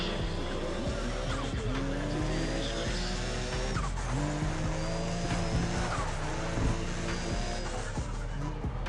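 A racing car in Need for Speed: ProStreet roars with turbo whine, its revs rising and dropping through gear changes alongside intermittent tire squeal, loud and continuous with no talk.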